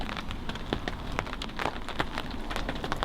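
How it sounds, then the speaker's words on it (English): Rain falling steadily on a tarp over a bushcraft camp, a dense continuous patter with scattered sharper drops striking close by, no voices. "It is raining."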